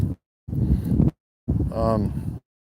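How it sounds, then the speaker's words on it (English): Bursts of wind buffeting the microphone in gusts, with someone speaking over the rumbling noise. "it's really windy here"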